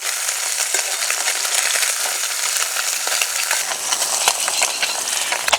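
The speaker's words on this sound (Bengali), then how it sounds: "এবার মাছ উল্টে দেব।" Small mourala fish fry in an oil-filled pan, giving a steady, close, crackling sizzle with occasional pops and no talking.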